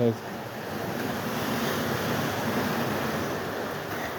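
Sea waves rolling onto a beach at Tropea, a steady broad wash of surf with wind over it, continuous and fairly loud, with no voices.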